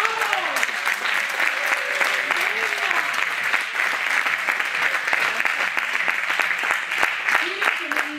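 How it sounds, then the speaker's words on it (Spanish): An audience at a creativity workshop breaks into sustained applause, a dense, even wash of clapping hands that carries on at steady loudness while a voice speaks over it now and then. "¡Un aplauso!"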